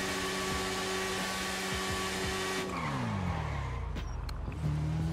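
Kawasaki Ninja H2R motorbike engine in GTA V roleplay: a loud, close, high-pitched whine held steady, then winding down through falling gear-like steps before rising again, heard alone without talk.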